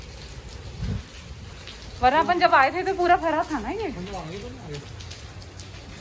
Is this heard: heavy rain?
yes